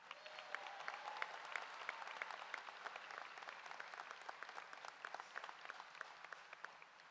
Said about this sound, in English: Let's give the class of 2026 a huge round of applause.